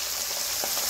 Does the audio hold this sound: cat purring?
no